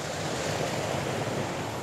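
Mountain river near San Juan Teponaxtla flowing among the hills, a steady, loud, unbroken rush of water with some wind buffeting the microphone.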